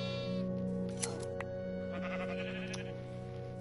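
Sheep bleat a few times in the Minecraft video game, short wavering calls over a constant bed of background music and game hum.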